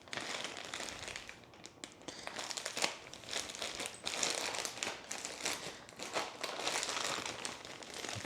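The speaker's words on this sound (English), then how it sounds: "So we're going to cut the hardware pack open." Plastic hardware pack being cut and pulled open for a nightstand kit, close crinkling and crackling of the plastic in a steady, uneven rustle with sharper snaps.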